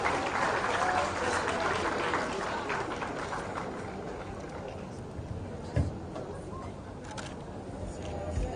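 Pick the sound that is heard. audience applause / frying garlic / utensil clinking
audience applause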